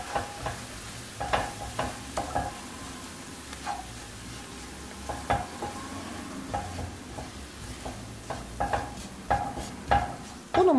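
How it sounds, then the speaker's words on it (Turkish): Flour roasting in a pan for a spinach and pasta dish gives a soft steady sizzle, punctuated by repeated scraping clicks of a spoon stirring against the pan, close and alone. "Unun kokusu çıkana kadar kavuracağım."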